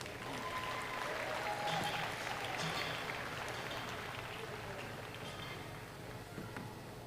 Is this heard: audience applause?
yes